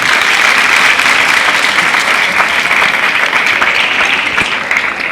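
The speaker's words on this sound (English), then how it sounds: "A round of applause to the 2IC." Spectators at a school cadet drill display applaud the second-in-command, a loud, sustained, even roar of many hands clapping outdoors without any speech.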